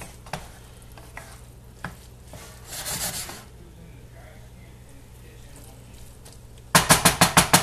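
Cauliflower rice stirred in a pan for a low-carb Spanish dish, with soft scraping and quiet sizzling under occasional talk, ending in a loud run of rapid rhythmic scraping strokes close by.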